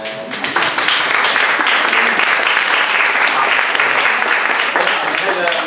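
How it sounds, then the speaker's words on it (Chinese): An audience at a church gathering applauds to welcome two returning guests, giving sustained, loud, even clapping that fills the room for several seconds, with a voice audible briefly at the start. "我们请他们站起来，我们鼓掌欢迎他们。"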